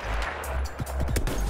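Battlefield 1 battle with SMLE sniper fire, several sharp cracking shots in quick succession over a steady low rumble of distant combat.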